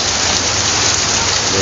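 Heavy, nonstop rain pours down steadily during a flood, a dense and unbroken roar of water close by with no pauses from start to finish.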